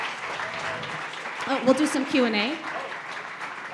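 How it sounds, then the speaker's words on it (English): An audience at a public science talk applauds in a broad wash of clapping while someone speaks over it. "How about another round of applause?"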